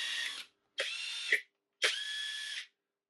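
A GISAM cordless drill driver whirs in three separate bursts at low, medium and high power, each a steady high motor whine, with short silences between and the pitch changing slightly from burst to burst.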